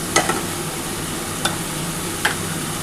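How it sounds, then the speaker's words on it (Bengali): Katla fish kosha stirred in a pan, with a low steady sizzle and three or four sharp spatula clicks against the metal spaced apart, close and alone. "আর খুব ভালো করে নাড়াচাড়া করতে হবে এটা"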